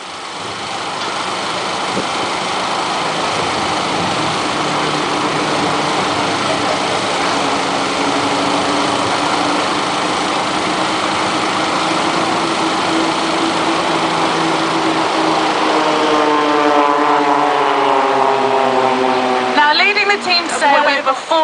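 An aircraft flying the Spitfire Roll aerobatic manoeuvre at an RAF Benson families day, its engine drone holding steady and fairly loud throughout, with a rising, shifting whine as it passes near the end.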